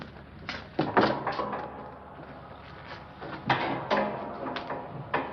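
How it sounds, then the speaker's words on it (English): An old interior door is handled to get at a folding bed in a stuffy rented room, giving a few close knocks, bumps and clatters spread irregularly over several seconds. "there's a folding bed behind this door"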